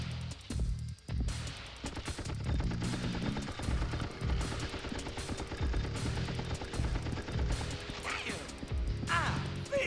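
Rapid bursts of automatic gunfire in the video game Apocalypse, dense and continuous with crashing impacts over a driving game soundtrack, with a voice speaking now and then.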